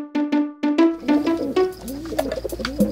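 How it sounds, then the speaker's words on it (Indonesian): Animated cartoon pigeon (dove) cooing, a few soft rounded coos close up, followed by busier cooing layered over a low background hum. "Ini namanya burung dara, atau bisa disebut burung merpati."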